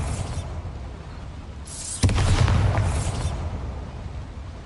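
A Bombarda spell explodes in Hogwarts Legacy with one sudden booming blast that rumbles low and then fades into a steady background hum.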